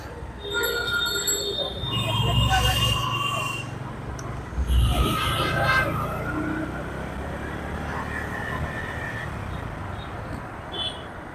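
A metro train at a metro station rumbles and rolls past with squealing wheels and a loud mid-clip surge, then a steady mechanical hum, with people talking faintly in the background.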